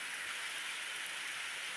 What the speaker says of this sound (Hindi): कितने बारिश हो रहा है यहाँ पे।